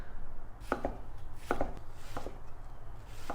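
A knife chops through young jackfruit on a cutting board in several crisp, separate strikes, some in quick pairs, set against a low steady background hum.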